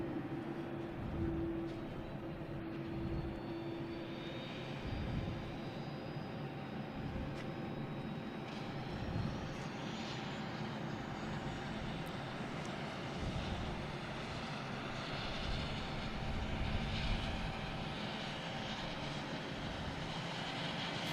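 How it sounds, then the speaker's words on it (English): A Delta Embraer E175 jet arrives at Boston Logan from Nashville, a continuous engine rumble with a slowly rising whine drifting across the airfield, moderately distant and free of talk. "we have Delta coming in from Nashville in"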